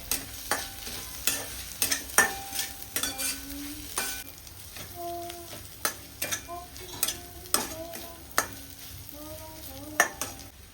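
Chopped onion with ginger-garlic paste and green chillies fries quietly in a pan while a spoon stirs it, producing soft sizzling under a series of distinct scraping and clinking strokes, close and without voices.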